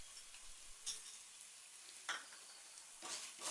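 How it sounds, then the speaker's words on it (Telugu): Coriander seeds and urad dal fry in a pan with a steady hiss of sizzling and a few scraping stirs at intervals, close and quiet, no talk. "ఇప్పుడు 1 టేబుల్ స్పూన్ ధనియాలు వేసుకుని వేపుకోవాలి"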